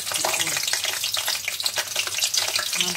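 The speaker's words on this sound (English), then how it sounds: "You can see the onion is bubbling and soft with the oil." Onion sizzles and bubbles steadily in hot oil in a pan while preparing Nigerian puff-puff, a dense, continuous close-up frying hiss with no talking over it.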